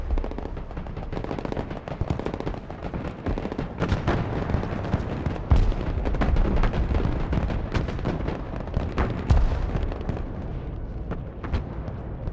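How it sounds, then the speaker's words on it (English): Dense volleys of gunship cannon and artillery fire in the Broken Arrow war game, with rapid bursts and booming impacts piling up continuously, loud and close with no pauses. "The gunships are here to support you. Move them over enemy positions and enjoy the show."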